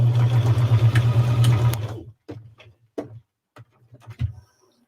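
A sewing machine stitches a rice bag handwarmer with a fast, even run of stitches, then stops and finishes with a few short, separate bursts of reverse stitching.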